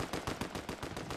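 Rapid gunfire in Fortnite, roughly eight quick shots in a fast even burst, fairly quiet and with no voices over it.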